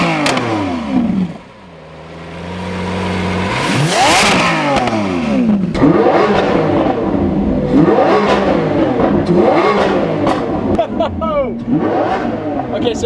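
The 6.5-liter V12 of a Lamborghini Centenario revs close by. It gives repeated sharp rising and falling blips after a brief dip, loud and raspy through the exhaust, with a voice speaking over parts of it.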